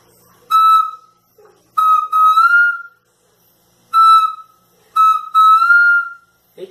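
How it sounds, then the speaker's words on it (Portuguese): A handheld whistle blown loudly and close in short bursts, two single blasts and two double blasts with warbling trills, separated by silence. "Apito bom danado."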